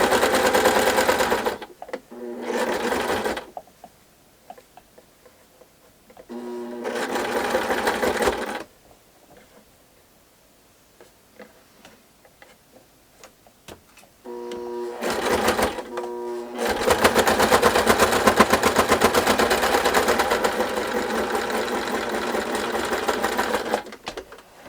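A sewing machine stitching a doll quilt runs in bursts of rapid, even mechanical chatter, two short runs, a pause, then a longer steady stretch, close and clear with quiet gaps between.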